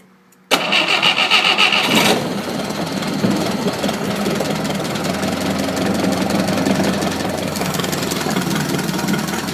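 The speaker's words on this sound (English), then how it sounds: "I'll give this thing a start, and we'll see how this beast runs" An Atomic 4 marine gas engine with transmission, set up for a sailboat, cranks and fires abruptly on a cold January day, then settles into a loud, steady, slightly knocking idle that runs alone to the end.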